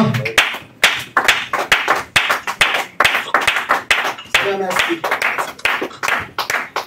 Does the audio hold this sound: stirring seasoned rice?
no